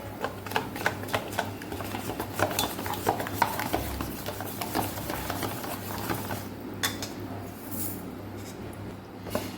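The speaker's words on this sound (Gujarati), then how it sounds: "પાછું સરસ આપણે બેટર સાથે મિક્સ કરી દઈશું." Dhokla batter being stirred with lemon juice and Eno in a bowl, a run of close, quick clinking and scraping strokes against the bowl with a low steady hum underneath, easing off toward the end.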